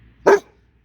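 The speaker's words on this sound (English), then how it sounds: "What are you barking at?" A single short, sharp dog bark, close and loud, alone against near silence.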